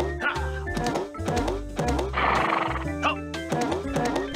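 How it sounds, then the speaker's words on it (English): A horse whinnies as a token sound in the Monopoly 2002 PC game, several loud neighs stacked over game music and clip-clop hooves, with a brief noisy burst mid-way. "Show us your stuff, horse and rider."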